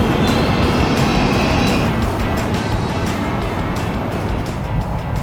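Steady broadband rumble and hiss fill the cabin of a Chinese high-speed train running along the line, loud and continuous with no talk, slightly fuller at first and then settling into an even drone.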